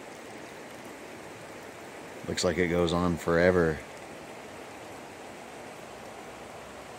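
A steady, even rush of the Middle Fork Smith River in California flows through the whole stretch, a clear stream bordered by cedars and ferns, with someone briefly speaking over it partway through.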